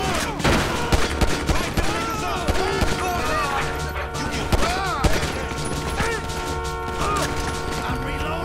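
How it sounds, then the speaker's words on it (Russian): Gunfire during a shootout in the video game GTA V, rapid irregular bursts of shots and impacts over a busy game soundscape, loud and continuous, with someone talking over it. "Стреляй в него, стреляй"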